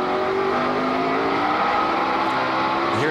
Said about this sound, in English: You hear Junior's engine just jumping in RPM.